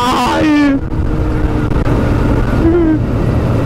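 A Kawasaki Ninja ZX-10R sport motorcycle ridden in sports mode, its engine droning loudly and steadily with strong wind rush, and the pitch rising briefly as the throttle opens.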